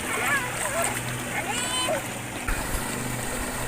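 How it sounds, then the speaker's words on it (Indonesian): A clear, fast-flowing river rushes and splashes steadily nearby, with people talking over the water. "Nah, sungainya cukup deras ya."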